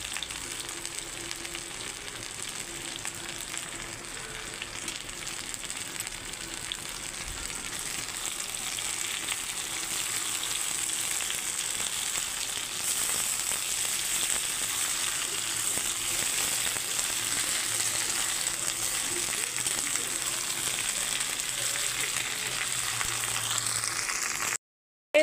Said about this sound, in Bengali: এই দেখুন আদা রসুনটাও ভাজা ভাজা হয়ে গেছে।